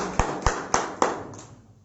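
Congregation at a Sunday church meeting clapping in praise, four sharp in-unison claps at an even beat followed by a fading tail, loud and close with no talk over them.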